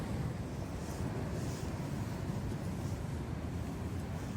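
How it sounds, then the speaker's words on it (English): Steady, close wind rumble from Storm Darragh buffets the microphone continuously, a dense broadband roar with no voices. "No, just the wind."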